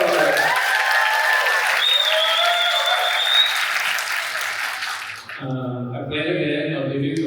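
Audience at a festival event applauding, a dense sustained clapping from a crowd that carries through most of the span, with music or voices coming in as it fades near the end.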